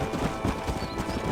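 Horse hooves clip-clopping in the Red Dead Redemption video game, a steady close trot mixed with game ambience and a faint whinny, with no talk.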